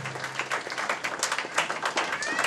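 Crowd applause fills a hall during a bingo dance event at an Elks Lodge, dense steady clapping with a faint low hum, moderately loud throughout.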